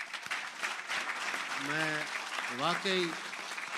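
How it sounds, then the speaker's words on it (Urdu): Applause at an Urdu mushaira in Abu Dhabi, a broad wash of clapping from the audience running under a voice that speaks over it with emphatic drawn-out words. "ان کے لیے تالیاں بجائیں."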